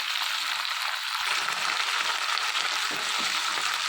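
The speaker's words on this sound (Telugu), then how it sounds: "కొత్తిమీర అంతా వేసుకుని కూసేపు కొత్తిమీర కూడా ఫ్రై చేసుకోవాలి" Coriander leaves frying in a pan for tomato chutney, a steady bright hiss of sizzling with soft stirring movements, close and unbroken without speech.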